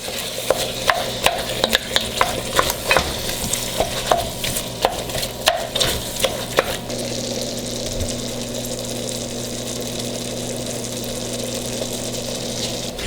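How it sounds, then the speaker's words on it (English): Cheeseburger soup with onion is stirred in a pot, with a steady run of spoon scrapes and clanks for the first half, then a low hum and faint sizzle. "Now I'm just gonna mix it all up before we add our seasoning to it."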